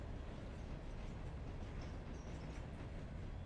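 A train in the video game Railroader rumbles steadily, with a low continuous rolling drone and faint clatter throughout.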